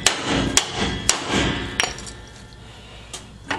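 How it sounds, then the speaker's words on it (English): Several sharp metallic hammer blows struck at an uneven pace, ringing briefly, with quieter pauses between them, as a dent is hammered out of jacked-up metal during a Jaguar independent front suspension swap. "I've just jacked it up here as I hammer this out"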